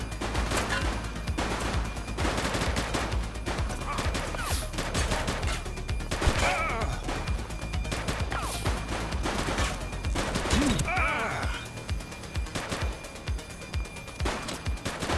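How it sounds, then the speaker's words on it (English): Gunfire during a police shootout in the video game The Precinct, repeated sharp shots and bursts over a steady background din of game sound, moderately loud throughout. "He's shooting!"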